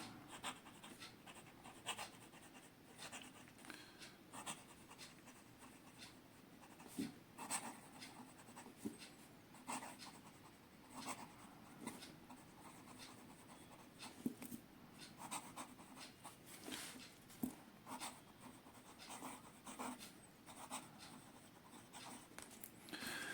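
A Parker Frontier fountain pen with matte black and chrome trim writes on paper in Parker Quink Black ink, giving faint, close scratching strokes in short irregular bursts against a quiet background.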